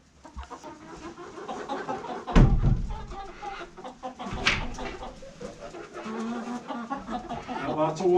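Chickens cluck and murmur nearby on a rainy farm, with a couple of louder squawks standing out over the soft background patter.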